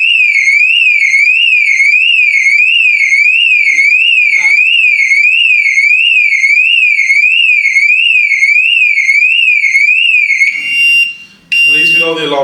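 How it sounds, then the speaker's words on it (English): The car alarm on a damaged Ferrari FF V12 wails loud and close, a fast up-and-down warble that repeats steadily for about ten seconds. It cuts off abruptly at the end, and a voice follows. "At least we know the alarm still works."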